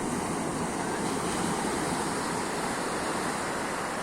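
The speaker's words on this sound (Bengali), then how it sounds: "এত সুন্দর ঢেউ" Ocean surf breaks along the beach beside a seafront lined with resorts, hotels and restaurants, a continuous loud wash of waves and roaring water, with wind rumble on the microphone and no voices.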